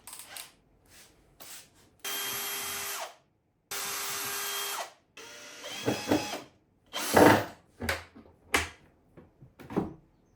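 A power drill fastens door hinges, whirring in several bursts of a second or so, separated by knocks, rubbing and handling noises of the hinge work.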